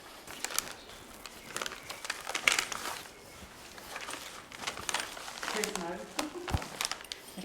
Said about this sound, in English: Can you open the envelope, please?